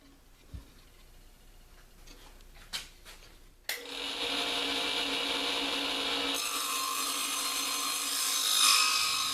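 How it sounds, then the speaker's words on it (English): Table saw ripping a strip from the underside of a wooden top bar for a top bar brood frame, a few knocks and clicks, then a loud continuous whine of the blade through the wood. "When operating a table saw, make sure that your hand never crosses over top of where the saw blade is turning."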